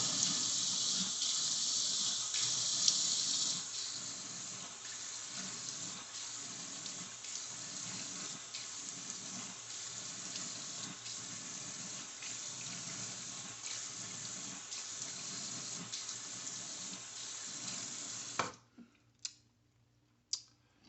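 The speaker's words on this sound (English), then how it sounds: "Then we want to run some cold water." Cold water runs steadily from a bathroom tap into a sink for about eighteen seconds, then shuts off and leaves a few faint drips and clicks.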